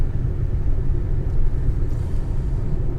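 A car engine rumbles steadily while driving, with a low, even drone and road noise filling the cabin for a few seconds, no voices over it.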